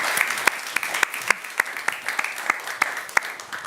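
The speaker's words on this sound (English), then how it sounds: "Give him a warm applause" A crowd at an evening journalism event gives a warm round of applause for a guest, steady, fairly loud clapping with sharp individual claps standing out near the front, no speech.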